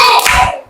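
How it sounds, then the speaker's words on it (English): Pupils in a basic school classroom do a quick rhythmic 'professor clap', a loud, close burst of many hands clapping together that fades within a second. "Now let's do the professor clap."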